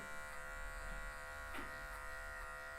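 Electric hair clippers run at a low setting on a man's afro hair at the nape, giving a steady faint buzz with small changes in tone as the blade passes through the hair.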